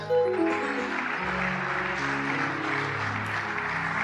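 Congregation cheering and applauding in praise of the Lord during a church broadcast in Kinshasa, a steady wash of clapping and crowd noise over sustained musical tones, continuous and fairly loud throughout.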